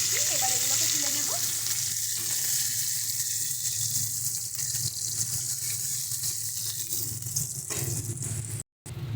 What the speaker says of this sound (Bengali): সুন্দর করে উল্টে পাল্টে আমরা মাছের মাথাগুলোকে ভেজে নেব